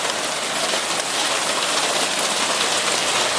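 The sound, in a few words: hailstorm, hail hitting the ground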